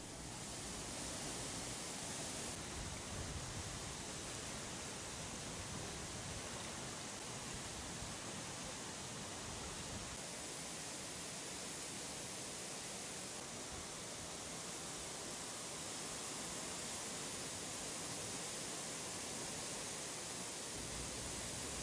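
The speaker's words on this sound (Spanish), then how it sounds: "Las celestes aguas del río forman una imponente catarata de 40 metros de altura" Río Celeste waterfall, a 40-metre cascade of sky-blue water in mountain forest, roars as a steady, dense broadband rush that fills the whole stretch without pause or voices.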